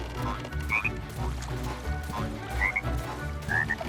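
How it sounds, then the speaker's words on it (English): Frog croaking in the LEGO Party video game, short chirpy croaks repeating a few times over a steady low game music bed, clear and moderately loud. "Also, another frog fell in."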